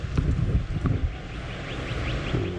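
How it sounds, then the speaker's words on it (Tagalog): Strong wind during a tornado warning buffets the microphone in heavy, uneven gusts, a low rumbling roar that rises and falls without any talking. "Yung lakas ng hangin sobra."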